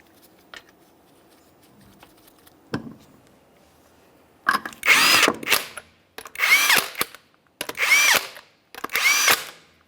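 An impact tool runs down the 19mm lug nuts on a 2012-2015 Honda Civic 1.8L in four loud, separate bursts after a few faint clicks, each burst about a second long with brief pauses between.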